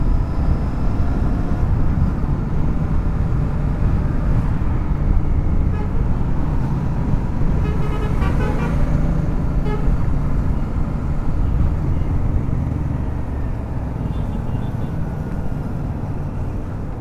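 Heavy road traffic in Tambaram streams past in a steady roar of engines, heard close from a motorcycle. A few car horns honk briefly in the middle.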